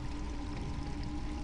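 Steady pouring, gurgling water from a health-restoring water fountain in the game Half-Life, a continuous stream sound with no talking over it.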